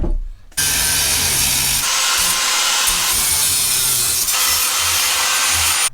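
A handsaw rasps back and forth through tubing for a Harley motorcycle pipe carrier, loud and close, with continuous strokes and a short pause midway before the cutting resumes.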